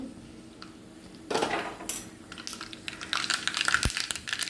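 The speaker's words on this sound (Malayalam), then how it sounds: "കുറച്ച് കടുക് മതി. കടുക് ഇട്ട് കൊടുത്തു." Mustard seeds spluttering and popping in hot coconut oil in a pan, a rising cluster of crackles and sizzles that grows denser toward the end, close and fairly loud, with no talk.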